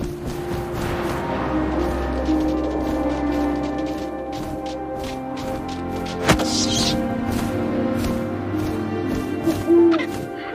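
An owl hoots in the video game What Remains of Edith Finch. Soft hoots rise over a steady wind-like ambient bed, with a sharp knock partway through.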